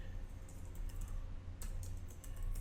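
Quick key presses on a computer keyboard as a folder name is typed, a light run of soft clicks over a steady low hum, close by and with no voices.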